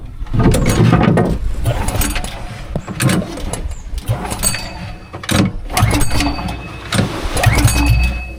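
A motor launch boat's engine cranks and catches, then runs with a rough, uneven rumble that rises and falls in bursts, loud and close.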